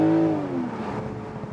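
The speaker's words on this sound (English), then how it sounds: "what about when I really accelerated hard? So I can also go to this sport shifting mode now with the gear shifter to the left side" A 2019 BMW Z4 M40i (G29) roadster accelerating hard in sport shifting mode, a loud close engine note rising in pitch then easing off as the car pulls away.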